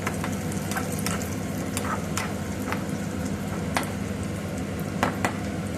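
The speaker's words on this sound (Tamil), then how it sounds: "உலர்ந்த திராட்சை போட்டு அதையும் நல்லா பொன்னிறமாக வறுத்துக்கணும்." Dried raisins frying until golden in hot ghee after cashews, a close continuous sizzle with occasional light stirring taps and scrapes, no talk.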